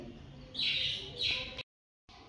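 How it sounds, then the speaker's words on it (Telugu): Two short bursts of high bird chirping over a low background hum, followed by a sudden silent gap and then faint ambient noise. "బర్డ్స్ అడుస్తూ ఉన్నాయి చూడండి"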